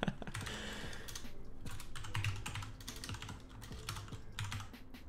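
Rapid typing on a computer keyboard, a steady stream of close, clicky keystrokes with occasional heavier thumps, continuing alone for about five seconds.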